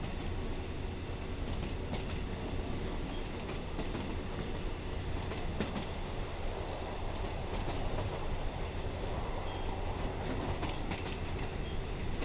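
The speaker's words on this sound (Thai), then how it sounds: "ขบวนรถไฟชานเมือง342ครับมาจากแก่งคอย" A suburban passenger train in Thailand rumbles steadily past on the rails, a dense, continuous roar with clattering wheel noise throughout, fairly close and loud.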